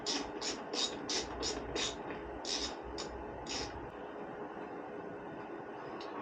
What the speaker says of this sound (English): First step is to remove this 4mm button head.